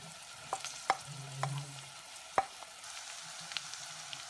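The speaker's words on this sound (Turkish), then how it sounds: "Soğanlarımız ve havucumuz kavruldu. Şimdi içine kıymamızı ilave ediyoruz." Minced meat frying in a pan with already-browned onions and carrots, stirred now and then with a few sharp scrapes and taps over a quiet, steady sizzle; no voices.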